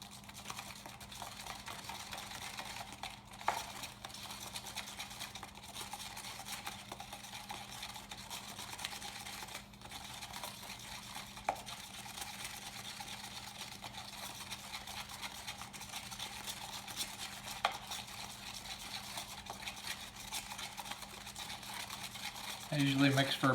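Alumilite two-part epoxy mixed with phosphorescent powder and white colorant in a cup, heard as a faint, steady stirring and scraping that continues for about twenty seconds, close and quiet.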